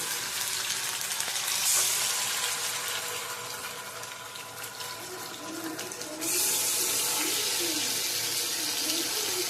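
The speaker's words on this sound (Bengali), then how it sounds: "এই ম্যারিনেট করা চিকেনটা সর্ষের তেলে ভেজে নিতে হবে।" Marinated chicken fries in mustard oil with a steady, close hissing sizzle that dips slightly midway and then grows louder again, over faint background music.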